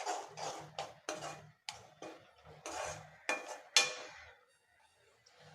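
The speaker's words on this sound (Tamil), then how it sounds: "இப்போ இதையும் சேர்த்து நல்லா இதை வதக்கி விட்டுறலாம்." Bitter gourd sautéing in a pan for a tamarind kulambu, with a series of sharp scrapes and clinks of a utensil against the pan, close and moderately loud, then a quieter sizzle.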